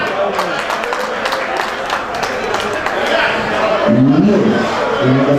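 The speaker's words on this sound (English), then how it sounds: "A round of applause" Loud crowd clapping and cheering for an award winner at a youth football tournament prize-giving, blended with lively chatter, with voices rising more clearly near the end.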